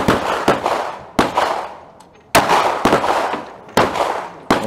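A Glock 43 pistol fires 9mm +P Buffalo Bore 147-grain hardcast lead rounds outdoors, six sharp, loud shots spaced about a second apart, each followed by a brief echoing decay.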